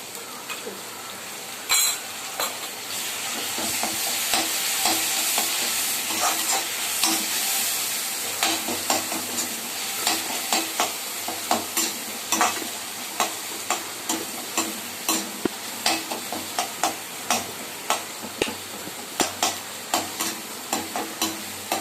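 Ground onion, tomato and garlic paste sautéing in a pan, a loud continuous sizzle with regular scraping stir strokes that grow more rhythmic as it goes on.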